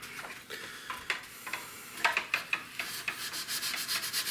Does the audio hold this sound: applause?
no